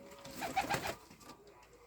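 Ödemiş Kelebek pigeon chicks in a loft give a short burst of soft cooing and rustling, close by and fairly quiet, then it fades to low background noise.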